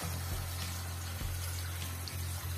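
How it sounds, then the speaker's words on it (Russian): Water running from a tap into a large pot of cauliflower, a steady close-up gushing stream with a low hum underneath, quiet and uninterrupted. "заливаю водой"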